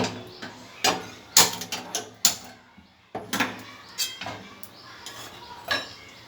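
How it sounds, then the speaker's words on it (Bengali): A metal kadai clanks and scrapes as it is set onto a kitchen gas stove for frying fish chops, a run of sharp close metallic knocks and clinks with brief pauses between. "গ্যাসের মধ্যে কড়াইটা চাপিয়ে দেবো।"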